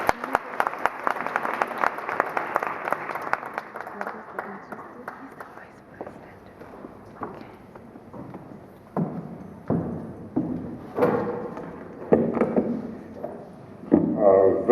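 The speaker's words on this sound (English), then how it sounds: "A round of applause." An audience at a corporate morning event breaks into applause, starting as a fairly loud burst of clapping and then thinning to scattered claps, with someone speaking over the later part.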